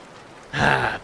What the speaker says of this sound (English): But still, you don't see such heavy rain in the containment zone very often.